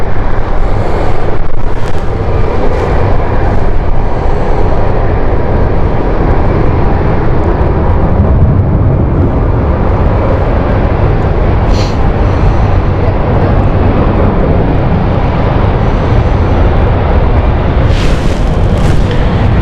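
A KLM airliner comes in to land at London City in very strong wind, a loud, steady broadband roar of engine and gusting air filling the whole stretch with no one talking.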